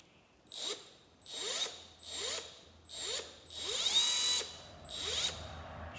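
Baxter belt sander run in bursts by a Milwaukee M12 cut-off tool setup: six rhythmic whirring pulses of roughly a second each with clicking mechanical texture, fairly close and alone without talk.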